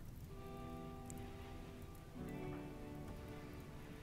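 Rain falls steadily in a video game, a faint, even patter that holds throughout with a low background hum and no voices.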